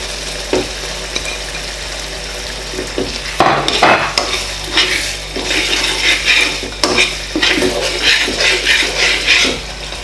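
Chopped onion going into a pan of chopped pepper for a Nigerian fish stew, with stirring and clinking of a utensil against the pan over a steady low sizzle, louder scraping bursts in the second half.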